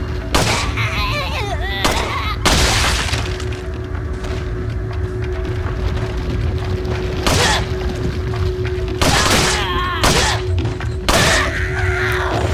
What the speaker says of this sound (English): Now we finish this remaining ones with the handgun.